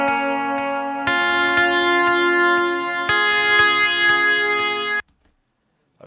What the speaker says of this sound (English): what you're hearing there is the initial note with a reverb tail